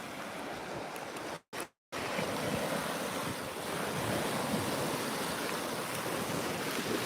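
Steady ocean surf washing onto a sandy, shell-strewn beach, with a continuous roar of breaking waves and wind buffeting the microphone, broken by a brief dropout near the start.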